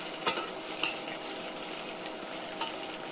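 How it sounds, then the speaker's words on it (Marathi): Garlic frying in hot oil, a steady close sizzle with a few light utensil taps near the start, no voices. "लय मस्त लसूण कडलाय तेलामध्ये"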